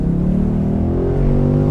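A Ford Mustang's deep, throaty engine revs and rumbles close by, steady and loud with a slight rise in pitch.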